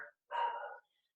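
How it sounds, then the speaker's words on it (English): A dog barks at a FedEx delivery truck: a single short bark after a brief yip, fairly near and alone, following a yoga instructor's calm spoken cues. "Sorry about the dog barking"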